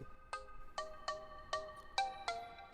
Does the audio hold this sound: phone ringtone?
yes